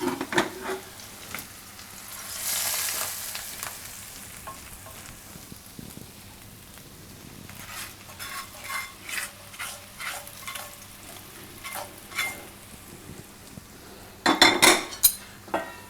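Cauliflower and capsicum curry is stirred in a pan with the gas turned off: a spoon scrapes and clinks against the metal under a soft sizzle, with irregular stirring strokes and a louder clatter near the end.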